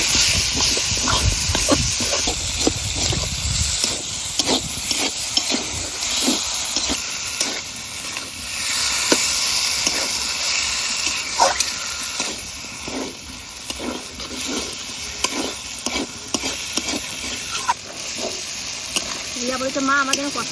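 Duck meat goes into a fried paste of dried chilli, cumin, ginger and garlic and sizzles loudly, with a continuous hiss of frying and repeated scrapes and knocks of stirring throughout.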